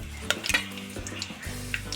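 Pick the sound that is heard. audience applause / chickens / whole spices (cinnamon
whole spices (cinnamon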